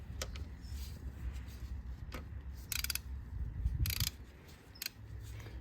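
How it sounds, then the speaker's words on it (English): A torque wrench set to 15 foot-pounds tightens bolts on a Mini Cooper S N18 engine during timing chain work, giving faint ratcheting clicks and short mechanical bursts over a low background hum. "we have our torque wrench set for 15 foot-pounds"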